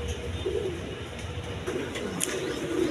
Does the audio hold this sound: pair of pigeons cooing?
yes